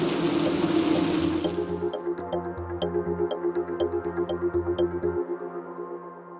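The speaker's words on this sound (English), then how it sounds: "rain pours into the shattered opening" Rain pours through a shattered opening in a sci-fi thriller scene, a loud, dense wash of water for about two seconds before it cuts to pulsing, rhythmic electronic music.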